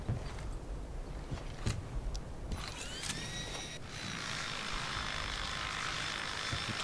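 A drone buzzes in the game Frontlines, a steady whirring engine drone with rising whine tones, heard alone after a few mechanical clicks and knocks, growing fuller and holding at a constant level.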